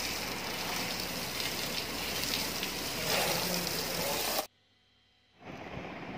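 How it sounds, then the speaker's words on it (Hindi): Water sprays steadily over a shampooed motorbike as it is rinsed, a loud, even hiss and splash that cuts off abruptly, leaving near-silence before a softer wash of sound returns. "सारी बाइक पे शैम्पू लगा दिया, अब इसको पानी के साथ साफ कर लेते हैं।"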